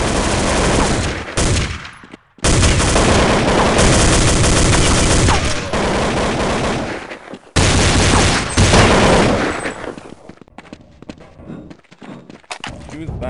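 Loud bursts of gunfire fill a round of Counter-Strike, long dense volleys broken by sudden short silences, with a few booming thuds mixed in.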